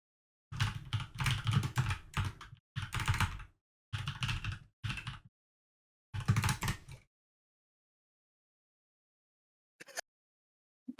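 Rapid keyboard typing in bursts, with clicks and clacks in several clusters over about six seconds and a couple of faint taps near the end, fairly close and with no voices.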